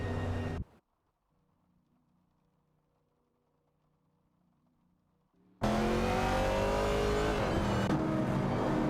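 Video game race cars, including a 1970 Chevrolet Camaro and a 1970 AMC Javelin, roar briefly at the start and then go almost silent. They return as a loud, sustained engine scream of accelerating cars that runs to the end.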